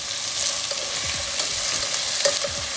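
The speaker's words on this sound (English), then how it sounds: "So I just saute them together for about 5 minutes." Onions and eggplant sautéing in a pan, a steady close sizzle with spoon stirring and scraping sounds running throughout.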